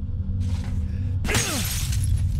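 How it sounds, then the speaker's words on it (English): Glass shatters in the horror game Condemned: Criminal Origins: one loud, sharp break near the middle, followed by tinkling debris over a low, steady ambient drone. "Break glass."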